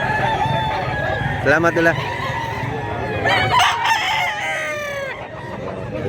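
Roosters crowing repeatedly at a gamefowl market in Mantalungon, Cebu, several birds calling close by in overlapping cock-a-doodle-doos over a busy background, with a short spoken phrase in between.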